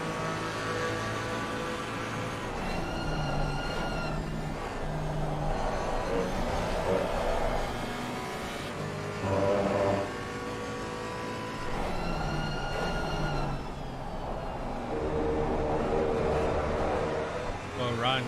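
A BMW race car engine in a sim racing game at Brands Hatch runs hard through a lap, the pitch climbing and falling with each gear change, loud and steady under continuous commentary.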